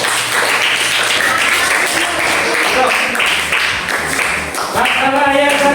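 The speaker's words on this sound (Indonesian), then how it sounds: "tepuk tangan dulu ke sana kelompok ini" A group of teachers or students applauding in a classroom training session, loud close clapping that runs steadily for several seconds before a speaker's voice comes in near the end.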